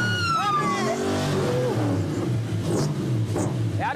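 An American car's engine is revved hard, rising and falling in loud bursts close by, with excited voices talking and shouting over it.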